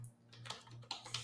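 Rapid, uneven keystrokes clatter on a computer keyboard during Python coding, several close clicks in short bursts over a steady low hum.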